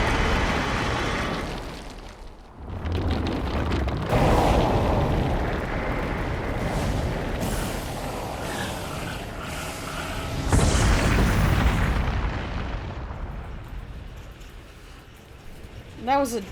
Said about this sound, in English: That was a beautiful Star Fox 64 explosion.